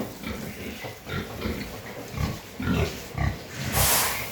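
Pigs being fed on a farm grunt repeatedly in loud, close, rhythmic snorts, with a scraping clatter as feed is poured near the end.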